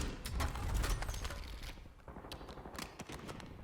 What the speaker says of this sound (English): I put a few shots on him.